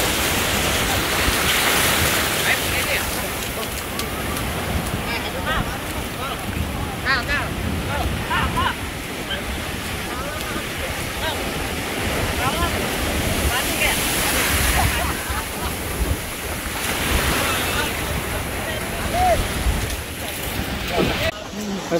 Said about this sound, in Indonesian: Kita bersama-sama dengan ombak yang besar.